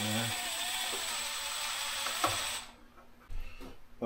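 A power driver spins a T25 Torx screw into a Can-Am Maverick R during an E85 upgrade install, giving a steady whirring mechanical drone that cuts off, followed by a few quieter clicks and knocks.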